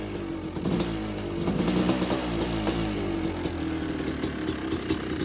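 A Kawasaki KX500 two-stroke dirt bike engine, not yet warm, runs close by with a loud, buzzing rasp that rises briefly in a rev and then holds at a rough, steady pitch.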